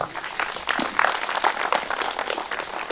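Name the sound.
audience clapping for the parents at a wedding ceremony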